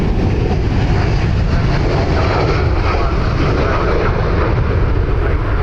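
Jet airliner on a heavy takeoff roll at Dublin Airport, a steady, loud, broadband engine roar that holds level throughout with no voices.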